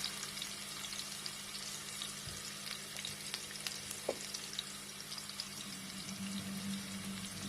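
Ginger garlic paste fries in a pan while a bitter gourd and gram lentil dish is cooked, a faint, steady sizzle with a few soft clicks and stirs and no voices.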